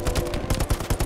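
Rapid gunfire in the video game Hell Let Loose, a close, loud burst of about a dozen sharp shots fired in quick, slightly uneven succession with no talking.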